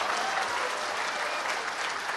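Audience applause at a stage debate show, a dense, steady wash of clapping from a crowd, loud and continuous throughout with no talk over it.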